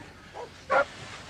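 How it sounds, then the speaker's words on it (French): A single sharp dog bark rings out at a distance, preceded by a softer yelp, against a quiet background. "font chier les chiens, Louis."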